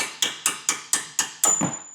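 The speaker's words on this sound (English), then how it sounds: "World's smallest hammer." A small hammer strikes a large car axle nut seven times in an even, quick rhythm, each sharp metallic clang ringing briefly, the last hit leaving a sustained ringing tone.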